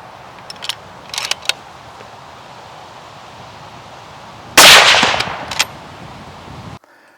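A CZ 600 Range steel-action bolt rifle being cycled by hand, a few sharp metallic clicks followed by a louder burst of clacking as rounds are worked through and ejected, then quiet.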